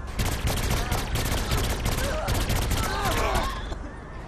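Dense, rapid gunfire while shooting crowds of enemies in the video game Saints Row IV, with continuous overlapping shots and a voice talking over the shooting.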